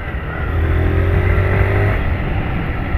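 A 2018 Honda Fan 160 motorcycle engine revs steadily close by, holding a strong, even drone for about two seconds before settling to a continuous idle hum.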